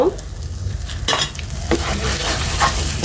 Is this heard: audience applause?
no